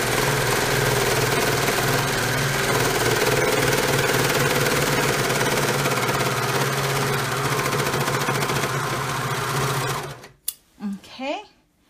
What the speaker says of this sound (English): now I'm just going to serge it to finish the edges